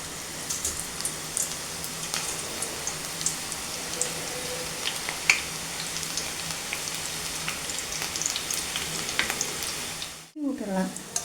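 Onion pakoda batter drops into hot oil, a continuous crackling sizzle with scattered sharp pops throughout, ending in a brief pause followed by a few clatters.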